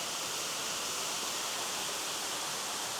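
Waterfall at Cowley County State Lake, a constant broad rushing hiss of falling water, steady and close, with no voices.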